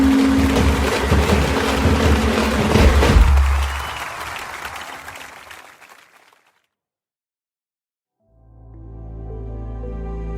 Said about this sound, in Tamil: கரகோஷங்களை எழுப்பி இந்த பொதுக்கூட்டத்தை நிறைவு செய்கிறோம்.